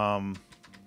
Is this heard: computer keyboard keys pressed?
yes